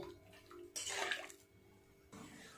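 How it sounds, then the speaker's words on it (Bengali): Water is poured in a small amount into a pan of fish curry, a brief splashing pour of about a second and a half set against quieter kitchen background. "সেই জন্য এরকম অল্প পরিমাণে জল দিলাম"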